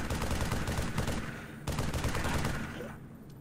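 Gunfire in the video game Halo 3 ODST comes as two dense bursts of rapid shots, each fading out. The shooting is moderately loud, with no talking over it.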